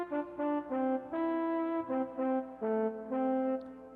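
Keyboard plays the first part of a song, a sustained single-note melody with clear, evenly spaced notes and short gaps, close and alone without any voice.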